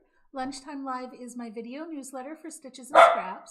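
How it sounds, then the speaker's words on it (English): Millie, a pet dog, gives a single sharp, loud bark at the end, right after someone speaks steadily. "That is my dog, Millie."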